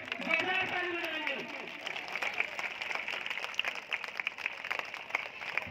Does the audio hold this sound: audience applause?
yes